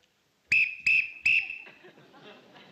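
A lifeguard blows a whistle in a sitcom scene: three sharp, shrill blasts in quick succession, followed by a fading murmur of audience chatter.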